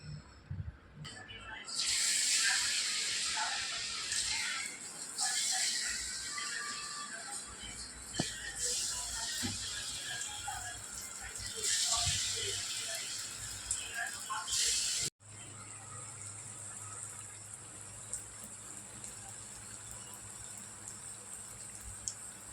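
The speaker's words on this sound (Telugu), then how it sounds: "ఇదిగో చూడండి, పునుగులు అయితే కాలుతున్నాయి." Punugulu batter fritters deep frying in hot oil: a steady bright hiss and bubbling crackle that swells and fades in long stretches, then continues quieter after a cut.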